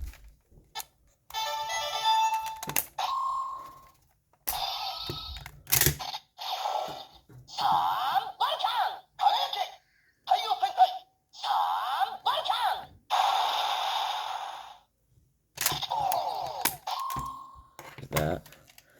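A Kaizoku Sentai Gokaiger Mobirates toy sounds off with the Sun Vulcan ranger key, giving bright electronic beeps and tones broken up by clicking key insertions, amid close-up talking.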